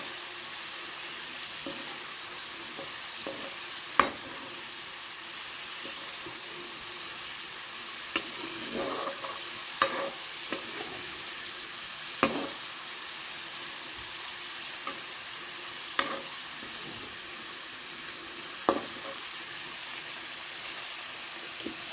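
Garlic frying in hot oil for a spicy red chili and garlic chutney, giving a steady, close sizzle throughout with occasional sharp clicks and clinks of a stirring spoon.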